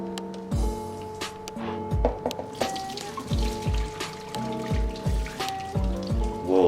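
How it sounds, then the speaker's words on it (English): Hot noodle cooking water is poured from a heavy pot into a kitchen sink, splashing and trickling steadily for several seconds, with clanking metal taps against the basin throughout. "I'm just gonna carefully pour that into the sink."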